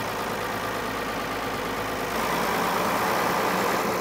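An old farm tractor engine, long left sitting on a fence row, idles with some blow-by, a steady rough rumbling drone that stays near and even for the whole stretch.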